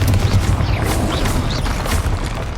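Bombarda and Confringo spell blasts in Hogwarts Legacy make a dense run of booming, crashing impacts over a constant loud rumble of combat.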